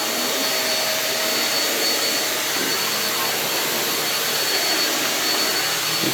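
A Shark Navigator NV22L upright vacuum cleaner runs on plain suction with the brush bar switched off, a loud, steady, close-up whooshing roar holding constant throughout.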